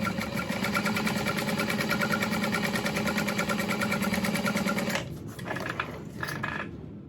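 A sewing machine top stitches along the top edge of a fabric bag, a fast steady whirring hum for about five seconds that then stops, followed by a few softer handling clicks and rustles.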